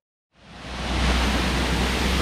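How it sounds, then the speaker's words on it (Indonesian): Waterfall close beside a roadside in Indonesia: a dense, steady roar of falling water that swells in after a moment of silence and holds loud and constant. "air terjun"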